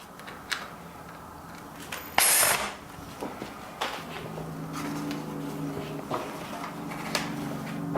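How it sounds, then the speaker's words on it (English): A power drill with its torque set low drives machine screws while a conical timer is fitted, giving short bursts of ratcheting whir and clicking against quiet workshop background, including one louder, brighter burst. "I have my drill torque set to 0."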